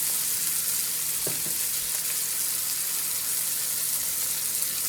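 Sausages frying in a pan give a steady, close hiss of sizzling fat, broken by a couple of brief clicks near the middle, with no one talking.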